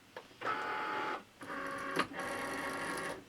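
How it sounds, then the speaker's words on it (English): A Cricut Maker cutting machine loading its cutting mat gives a close, steady mechanical whir in two bursts with a short pause and a small click between them, alone in a quiet room. "this flashing button is telling me to press it to load the mat."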